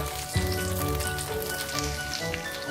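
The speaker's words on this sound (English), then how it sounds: "Now add your chopped okra or bhindi." Chopped okra (bhindi) sizzles and fries steadily in a hot open pan, a continuous loud crackling hiss that starts with a burst as the okra drops in and stays dense throughout.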